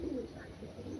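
Pigeons coo in a low, throaty murmur, close and steady through the whole moment, with a male and female of a pure Kachchi Pili Lal Sera breed, a Malwai pair, kept at night under a light.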